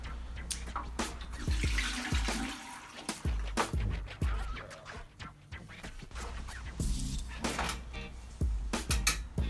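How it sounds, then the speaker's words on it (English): A photographic salt print rinsed under running tap water in a darkroom tray, a steady splashing stream with clatters and handling knocks, fairly close and alone. "It needs to get washed in just normal tap water for a while until the water clears up."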